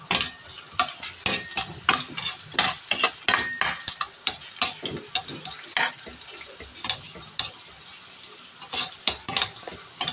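Ginger sautéing in a home pan for ginataang langka, with close, rapid scraping and clinking stir strokes over a light sizzle, repeated in quick bursts.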